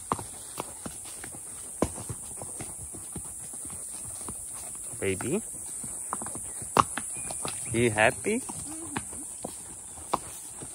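Horses walking on Ometepe Island, Nicaragua, with steady, fairly close clip-clopping hooves throughout, under short bursts of talk from riders.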